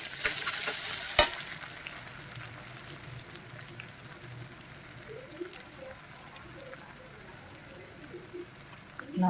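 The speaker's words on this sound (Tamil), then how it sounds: "லேசாக வதக்கி எடுத்துக்கும்" Dried fish and onion sauté in a pan with a faint, steady sizzle throughout, opened by a brief loud scrape or clatter.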